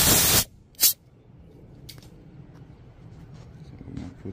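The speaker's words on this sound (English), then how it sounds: "spray a little air in this, clean this out." Compressed air blasts through a carburetor part of a 5HP Briggs & Stratton engine during a rebuild, with a loud half-second hiss followed by a second short burst, then quiet handling noises.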